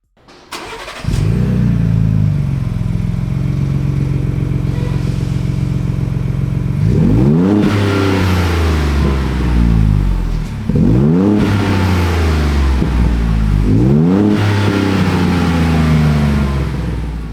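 Loud Ford Bronco engine fitted with a MagnaFlow Rock Crawler Series exhaust and small front-mounted muffler, idling steadily then revving hard three times in quick succession, each rev rising and falling back, heard up close with no talk.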